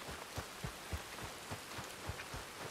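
Rain falls steadily outdoors in the wild, a soft continuous patter with faint, irregular low thumps of drops hitting a surface close by; no voices are heard.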